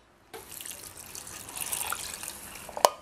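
After a moment of silence, water pours steadily from a cup into an adobo marinade of vinegar for an oven-baked pork leg, a close continuous splashing stream ending in a couple of sharp knocks.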